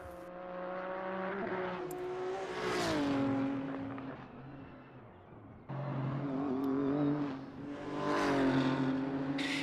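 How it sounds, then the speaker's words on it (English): Race cars at an NLS endurance round, a BMW chasing a Nissan GTR, sweep past with rising and falling engine whine, revving hard through gear changes in two close passes. "And this BMW chasing this GTR."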